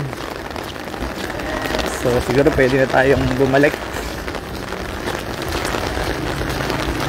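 Rain keeps falling over Marikina as a steady, moderate hiss of drops, with someone talking over it partway through.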